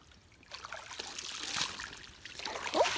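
Shallow water trickles and splashes softly at a creek where fossils are dug, close and fairly faint, with irregular bubbling swells and a brief squeak near the end.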